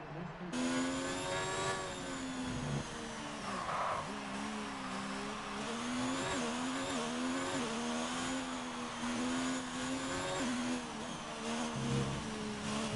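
F1 car on a flying lap around the Japanese GP circuit in F1 2019, its high-pitched engine screaming continuously and wavering through gear changes and corners, loud and close with occasional tire noise.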